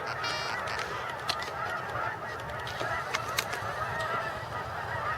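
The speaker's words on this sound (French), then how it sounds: "On entend les oies là." A flock of geese flying overhead honks repeatedly over a steady outdoor rumble, the calls scattered and overlapping, moderately loud.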